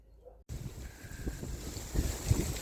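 Steady wind buffets the microphone after a brief silent start, a rough low rumble with gusts rising toward the end.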